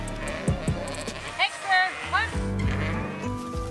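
A flock of sheep bleats in several overlapping calls, herded by a trained dog, with a voice speaking over and between the bleats.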